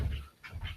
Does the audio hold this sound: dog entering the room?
yes